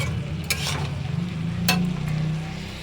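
Bottle gourd and shrimp cook in a pan with a steady, close sizzle and a couple of sharp scraping stirs from a utensil.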